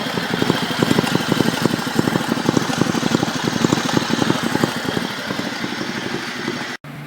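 A Sears SS16 garden tractor engine idling fast and steady nearby, a throbbing, regular chug with a rumbling low pulse that holds constant before a sudden brief dropout at the end.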